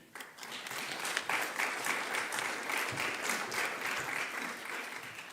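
An audience at a malaria elimination conference applauds a speaker from WHO, a broad, even wash of many hands clapping at a distance that swells and holds steady.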